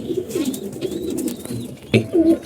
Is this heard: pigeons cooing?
yes